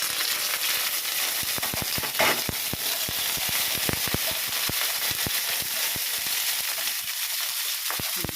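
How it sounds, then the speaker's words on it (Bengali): Curry leaves, mustard seeds and a dried red chilli frying in hot oil, a close steady sizzle broken by many sharp irregular crackles and pops, with no voices. "কারি পাতা ভাজা ভাজা হোক"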